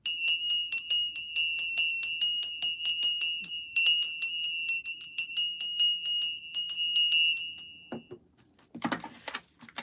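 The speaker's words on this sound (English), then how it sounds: "I'm gonna ring a bell" A bell is struck repeatedly in a quick, even rhythm, each bright ring decaying before the next, for about eight seconds, then stops and a few faint handling noises follow.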